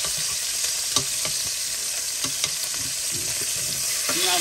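Bacon frying in a pan, a continuous close sizzle and crackle with scattered small pops, heard on its own without talking.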